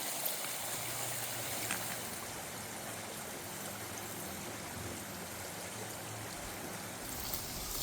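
Clear Creek in the Gifford Pinchot National Forest flows steadily with a soft, continuous rushing and trickling, fairly quiet and unbroken throughout.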